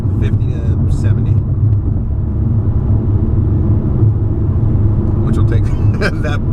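A 2017 Honda Civic EX-T 1.5T with a Ktuner tune pulls in fifth gear from 50 to 70, a steady low in-cabin engine drone with voices briefly at the start and end.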